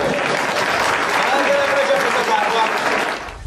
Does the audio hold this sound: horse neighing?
no